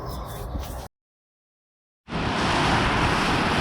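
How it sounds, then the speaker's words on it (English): Strong gale blowing outside a UK garage workshop, heard as a broad, steady roar and rumble. A brief burst is followed by about a second of dead silence, then the wind resumes loud and continuous. "It's blowing a hoolie outside."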